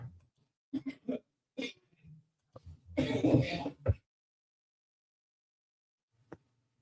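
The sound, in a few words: someone coughing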